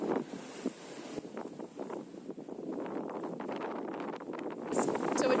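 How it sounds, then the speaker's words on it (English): Strong wind gusting over the microphone on a sailboat in heavy weather on a rough, messy ocean, a steady broadband roar with waves sloshing throughout and a louder gust near the end. "It's too windy"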